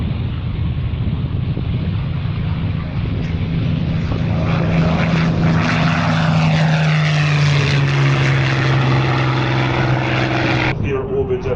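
An Avenger warbird propeller aircraft at the Warbirds Over Wanaka air show drones loudly overhead, its engine pitch rising and falling as it passes, with people talking underneath.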